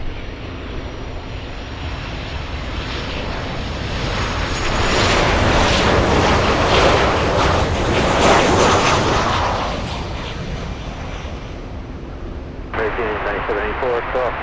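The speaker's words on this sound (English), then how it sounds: "Lufthansa taxiing really quick right now." A Lufthansa Boeing 747 taxis quickly at Miami International Airport, its engines sending a loud, steady jet roar that swells in the middle and then eases, with a sharp burst of other noise near the end.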